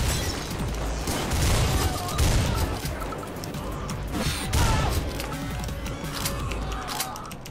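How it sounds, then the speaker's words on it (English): A shotgun fires repeatedly in the PC game Butcher. Sharp, loud blasts come in quick succession with crashing impacts, and someone talks quietly underneath. "That shotgun."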